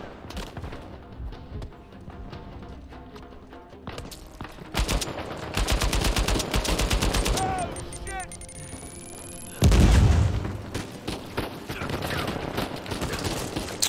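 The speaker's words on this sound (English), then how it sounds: "who is shooting at me?" Gunfire in the Uncharted 4: A Thief's End video game, with dense bursts of rapid shots and heavy booms building into an intense fusillade, plus louder blasts midway and voices over game sounds.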